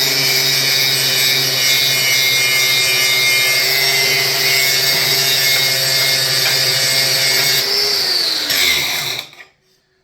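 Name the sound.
Dewalt DW831 angle grinder grinding rusty metal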